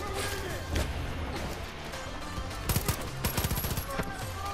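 Far Cry 5 gunfire crackles through dense game ambience, with scattered shots early and sharp bursts of rapid automatic fire near the end, loud and close.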